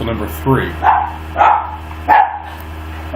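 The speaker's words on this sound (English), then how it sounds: "Sorry for the dogs barking." Several dogs bark at home in short repeated bursts, about four barks spaced roughly half a second apart, fairly close, while a person talks over them.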